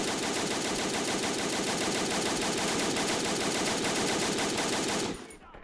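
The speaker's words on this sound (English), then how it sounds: "they're taking shots from this machine gun" Rapid continuous machine gun fire in the Army Men video game, a dense loud stream of shots with echo that stops abruptly near the end.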